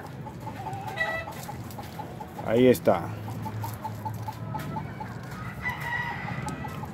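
A fighting rooster crows once in a short burst, with some clucking nearby, over a steady outdoor background and someone speaking briefly in Spanish.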